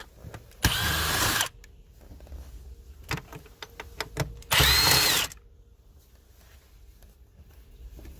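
A power driver with a T25 Torx bit backs screws out of a BMW center console in two loud whirring bursts, each under a second long, separated by faint clicks and handling noises, with no talking.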